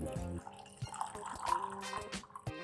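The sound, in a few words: water being poured in to make sharbat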